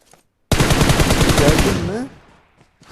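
Rapid automatic gunfire in the mobile battle royale game PUBG Mobile, a dense burst of shots lasting about one and a half seconds, loud and close, then fading into quiet.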